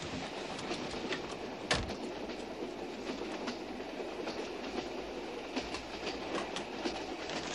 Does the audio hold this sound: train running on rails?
yes